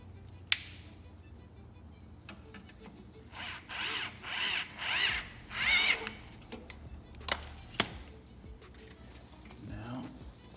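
A ratchet tightens a turbo component on a Hyundai Genesis Coupe in a garage: five rhythmic bursts of clicking, fairly close, with sharp metallic knocks before and after and a faint background hum.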